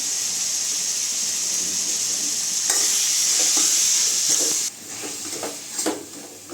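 Mutton with salt being stirred and fried in a pan, a loud close hissing sizzle that surges in the middle and then drops, followed by several distinct stirring scrapes.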